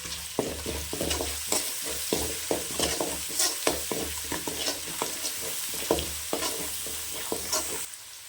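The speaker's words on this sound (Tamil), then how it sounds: "கருவேப்பிலை தலை சேர்த்துக்கோங்க" Curry leaves frying in hot oil for a mutton fry, loud close sizzling broken by repeated scraping stirs of a spoon against the pan at a steady rhythm, with no talk.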